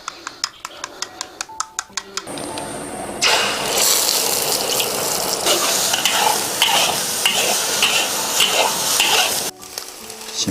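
Eggs beaten with a little cold water are stir-fried in a wok in a rural kitchen: a few sharp taps first, then a loud, continuous sizzle with constant scraping of the spatula, close up.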